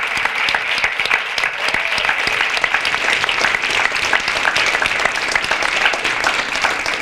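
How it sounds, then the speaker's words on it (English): Steady, enthusiastic applause from a conference audience at a land conservation summit, dense and continuous for the whole stretch with no talking over it. "And I just want to have a 30-second rowdy applause for Lori and the League."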